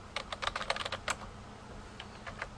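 Fast, light keystrokes clatter on a computer keyboard in a quick burst, a short pause, then a few more taps, faint and close in a quiet room while an ifconfig command is entered.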